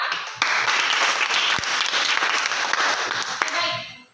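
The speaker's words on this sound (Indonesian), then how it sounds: "Tepuk tangan untuk mereka." Classroom applause from a class of students, a burst of many hands clapping that starts abruptly, holds steady and fades out at the end, fairly loud and near.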